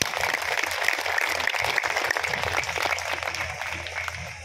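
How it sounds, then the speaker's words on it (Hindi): Crowd applause for Haryana's women at an open-air village protest gathering, sustained clapping from many people with a noisy, murmuring background that stays steady throughout. "मातृशक्ति के लिए स्पेशल तालियां होनी चाहिए"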